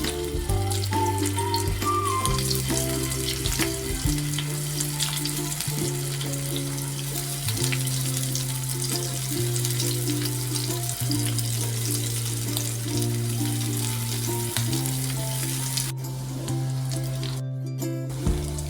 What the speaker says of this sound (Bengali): এখন সসেসগুলো আমি ভেজে নেবো